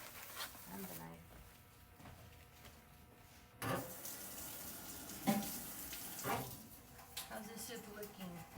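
Tap water runs into a kitchen sink while a knife is rinsed, a faint hissing splash that grows louder after a short pause, with soft clatters and a voice in the background.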